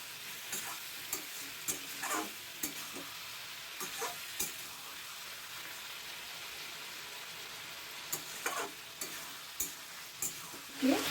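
Ridge gourd and prawn curry simmering in an open pan, a faint soft sizzle and bubbling with occasional sharper pops and light utensil clinks, steady and close without talk.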